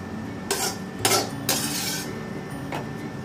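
A metal spoon scrapes and clinks against a kadhai as ghee-fried coconut is scooped out into a dish while making gond laddu, a few distinct scraping strokes over a steady kitchen background.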